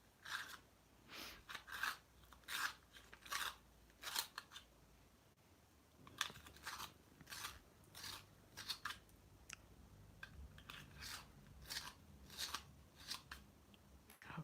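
Pencil tip being sharpened in a handheld T-Gal sharpener, a series of short scraping, crunching bursts in an uneven rhythm, close and fairly quiet, with no voices.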